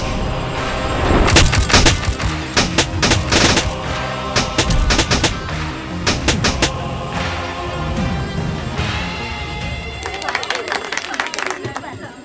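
Loud, rapid gunshots ring out at a shooting game with a cash prize, in clustered bursts of sharp cracks. Voices and crowd noise run beneath them.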